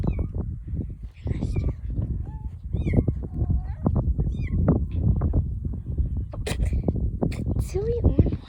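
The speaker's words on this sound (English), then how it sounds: "I hear a kitten." Kittens meow repeatedly at a ranch, several thin high mews scattered through the clip over close, busy talking and handling noise.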